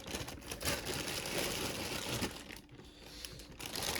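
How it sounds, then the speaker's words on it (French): A packaged figurine being unboxed, with plastic packaging crinkling and rustling steadily at close range, no talking. "Je déballe tout ça."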